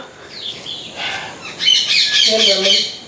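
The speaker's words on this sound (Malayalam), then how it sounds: "എന്തുവാ ഈ കീ കീന്ന് കിളിക്കുന്നേ" A bird gives sharp, shrill squawking calls at dusk, a quick run of high "kee" notes that grows louder and busier toward the end, close by.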